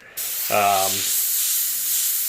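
An airbrush sprays paint on a skull artwork, a short burst of sharp airy hiss that holds steady for about two seconds after a brief tonal blip.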